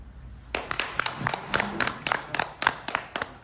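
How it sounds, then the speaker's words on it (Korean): Audience applause following forum lectures on Paleolithic heritage, a burst of clapping starting half a second in and continuing with distinct sharp claps, moderately loud and fairly close, with no talking. "큰 박수로"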